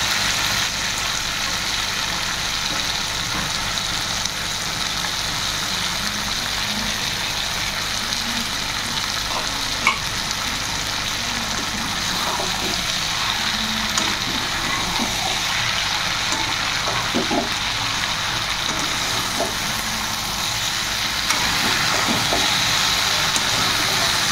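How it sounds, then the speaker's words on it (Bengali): Fried dried shrimp sizzling in a pan for a Bengali kachur loti dish, a dense, steady hiss of frying that holds continuously and loudly throughout with no voices. "এখন আমরা ভেজে রাখা চিংড়ি শুটকিগুলো দিয়ে দেবো।"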